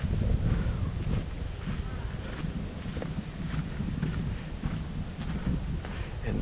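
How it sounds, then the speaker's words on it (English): Cool breeze blowing deep in a canyon beside a river trail in Zion National Park, Utah: a steady, fairly loud broadband whoosh of wind buffeting the microphone, with continuous low rumble and no talking. "There's a cool breeze."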